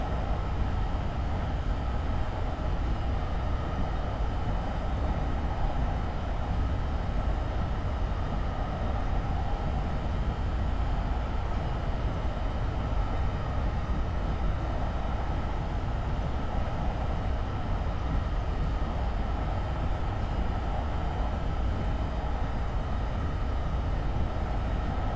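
Train running in a train simulator game on the Croton-Harmon to Grand Central route, a steady, continuous low rumble and hum of the moving train that stays even in level throughout, with no talking.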